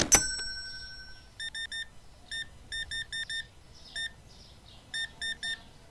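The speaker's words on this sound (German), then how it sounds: "Bevor die nette Dame hier anfängt zu klingeln" Repeated electronic ding-ding chimes of a customer ringing the checkout bell in Supermarket Simulator, several quick bursts of two to four tones spread across the clip, clear and fairly close over a quiet store background.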